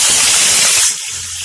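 Pieces of rohu fish meet hot oil in a pan, giving a loud, close, steady hiss for about a second that then drops to a quieter background sizzle.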